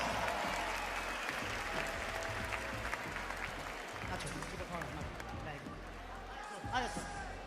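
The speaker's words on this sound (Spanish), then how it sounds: "Oye, Concepción, fuertes aplausos por el amor de Jesucristo, fuertes aplausos." Sustained applause from a large crowd at the Red Bull Batalla Chile 2025 national freestyle rap battle final, dense and steady throughout, with voices mixed into the noise.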